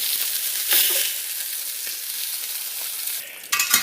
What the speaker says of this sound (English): So now this is the last batch of our meat that's coming out from being browned